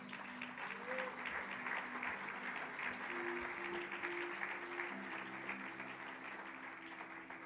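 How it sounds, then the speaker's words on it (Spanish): Steady applause from a church congregation during a sermon fills the space, a dense wash of clapping held at an even level throughout, with a faint tonal hum or sustained note underneath. "Denle un aplauso al Señor."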